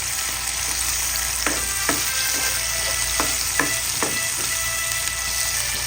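Tomatoes sauté in fish-frying oil with onion and ginger, a steady close sizzle broken by several sharp stirring clicks and scrapes of a utensil against the pan.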